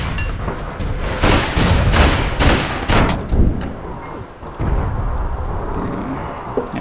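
Rapid bursts of video game gunfire crack and boom close and loud, overlapping volleys with heavy thuds and a brief lull before another sustained barrage.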